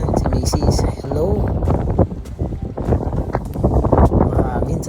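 Gusty sea wind at a beach, buffeting the microphone with steady rushing noise throughout, mixed with background voices and people talking nearby.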